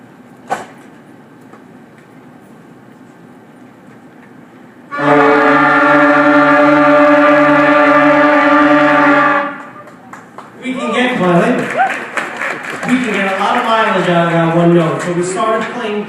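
After some practice, a school band ensemble sustains one steady, unified note for about four seconds, loud and clean, followed by a looser passage of wavering, sliding tones.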